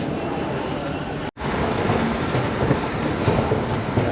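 A passenger train bound for Luton rumbles along with a steady, loud rolling roar and faint rail clatter, interrupted by a brief dropout before the noise resumes unchanged.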